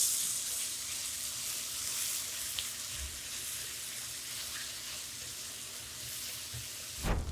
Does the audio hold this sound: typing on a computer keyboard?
no